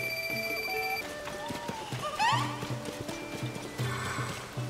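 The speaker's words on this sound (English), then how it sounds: "let's take my horse" Horse hooves clip-clop in quick rhythm in Zelda: Tears of the Kingdom, then a loud whinny rises over looping background music and chimes.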